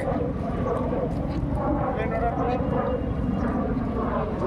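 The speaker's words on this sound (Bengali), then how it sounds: "এই হেলিকপ্টার যাচ্ছে, এই যে হেলিকপ্টার" A helicopter drones steadily overhead at Eco Park, Kolkata, with a continuous low rotor rumble, while people talk beneath it.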